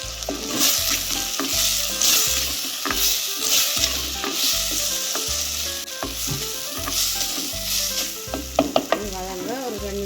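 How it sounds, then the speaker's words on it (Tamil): Tomatoes sautéed in a pan for a Jaffna-style spicy soya bean curry, with a steady, loud sizzle and regular scraping strokes of a spatula, plus a few light clinks near the end. Nobody speaks. "இனி தக்காளி பழத்தை இருக்க போட்டு வதக்குவோம்."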